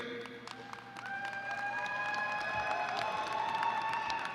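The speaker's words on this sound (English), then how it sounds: "let's give them a round of applause" A winter 2023 commencement audience breaks into applause, a dense wash of clapping that builds from moderate to fuller and holds steady, with faint whistles and cheers threaded through the crowd noise.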